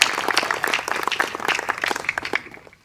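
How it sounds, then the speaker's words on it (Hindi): A live audience claps hard and fast to welcome a performer onto the stage. The close, crackling applause runs for about two and a half seconds, then fades quickly to silence. "जोरदार तालियों से आमंत्रित करें।"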